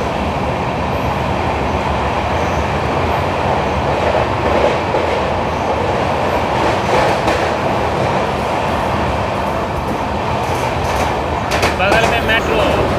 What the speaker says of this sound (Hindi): बगल में मेट्रो, कोलकाता की मेट्रो